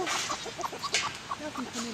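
Chickens cluck in quick, irregular bursts close to the microphone, with several birds overlapping in short rhythmic calls.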